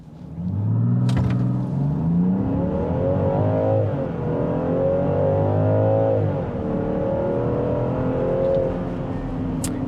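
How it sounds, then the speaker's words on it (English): A 2024 Land Rover Defender Outbound, close to 6,000 pounds, launches from a brake-torqued start in sport mode and accelerates from 0 to 60. The engine roars loudly and steadily, its pitch climbing and dropping through gear changes, with no talking. "Let's go ahead and see what we can get 0 to 60-wise."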